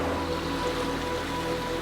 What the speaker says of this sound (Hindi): अब एक विशाल और तेज नदी इस गुफा के बीच से बह रही है